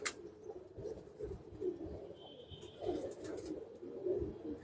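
Caged pigeons, a female among them, coo in low throaty bursts that recur every second or so over a steady background murmur, fairly close and moderate in volume.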